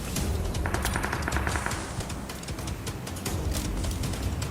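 Rapid automatic gunfire in the PUBG Mobile battle royale on the new Rondo map, continuous dense bursts and shots crackling loudly for the whole stretch with no talk over them.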